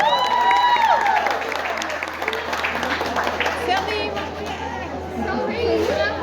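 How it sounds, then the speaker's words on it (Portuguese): Crowd applause at the podium ceremony of the 35th Corrida da Fogueira running race, clapping and cheering mixed with loud nearby chatter and voices, some whistling-like tones rising over the noise. "Uma salva de palmas aí"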